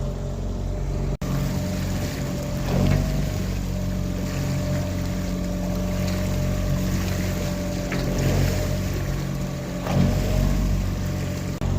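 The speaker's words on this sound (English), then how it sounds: "we've been on the engine for about an hour now" A sailboat motoring on its outboard engine in flat calm sea off Portland Bill, with a steady drone and tonal hum running throughout, water swishing along the hull and occasional slaps of small waves.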